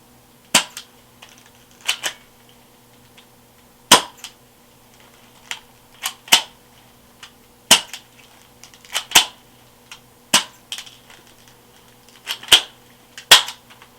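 Vintage Crosman P32 soft air pistol being fired: a dozen or so sharp, quiet snapping reports spaced irregularly about a second apart, close by, with faint mechanical clicks between shots and no talking.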